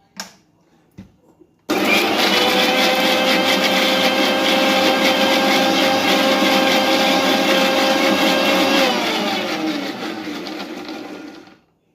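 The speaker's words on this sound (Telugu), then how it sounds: "నేను మిక్సీ జార్లోనే వేసి చూపిస్తున్నాను ఈ లేత కొబ్బరి ఉంది కదా ఇది వేసేసుకోండి" A mixie jar blends tender coconut with a loud, steady whirring grind that starts abruptly after a few soft clicks, runs for several seconds, then winds down as the motor slows.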